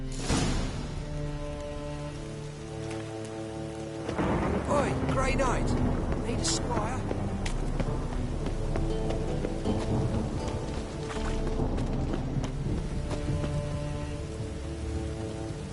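Steady rain with low rolling thunder in a medieval village in The Witcher 3, a broad wash of drizzle under background music and layered game sounds, with voices talking over it.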